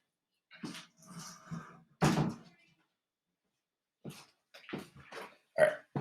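A door swings and shuts close by indoors, with a solid thud followed by a few softer knocks and bumps, heard alone at low level.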